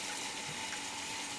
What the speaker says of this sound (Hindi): पानी इधर ही से आ रहा है।